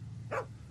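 A dog in The Walking Dead Season 2 lets out a single short, faint bark over a low steady hum.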